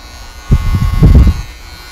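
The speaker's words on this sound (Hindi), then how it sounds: "प्रिसीजन ट्रिमर, क्योंकि इसमें आपको कर्व वगैरह के जो आप लाइनिंग देते हैं वो कर सकते हैं आसानी से" Syska HT4000K precision trimmer cutting a man's hair, a close, loud electric buzz lasting about a second and wavering as the blades move.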